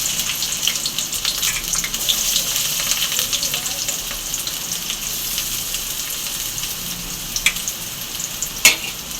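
Onions sizzle and crackle steadily in hot oil, close and continuous, with an occasional sharper pop or clink near the end.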